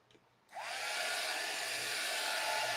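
A hair dryer switches on and blows a loud, steady rushing whoosh while drying paper napkins, continuing without a break after a brief quiet start.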